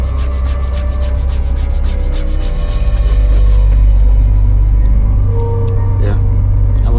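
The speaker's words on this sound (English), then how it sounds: "So we're going to start sanding." Steady, continuous rasping scrape of hand sanding against wood on a wooden model ship kit, fairly loud and close, with a constant low rumble underneath throughout.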